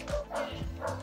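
Dogs bark in the background, two or three muffled woofs about half a second apart, moderately distant and fairly faint, with no talk.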